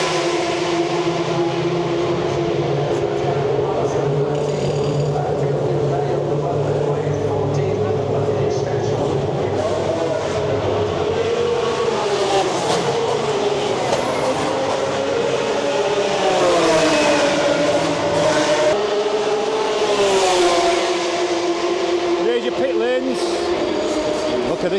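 Formula 1 cars roar past during Austrian Grand Prix practice, a loud continuous engine wail echoing under a grandstand roof, with rising and falling pitch as the cars pass and voices talking over it.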